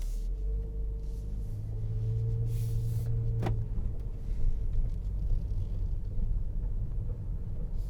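A 2022 Honda HR-V Sport Edition rolls along on a test drive, heard from inside as a low steady road rumble and engine drone, with a brief whir and a soft tick partway through.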